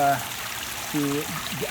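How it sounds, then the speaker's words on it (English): Water pours steadily from a pipe back into a concrete fountain pond, a soft continuous trickle and splash heard close by beneath a humming voice. "Okay, so I got the water flowing."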